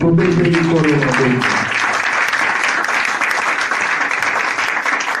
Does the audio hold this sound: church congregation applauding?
yes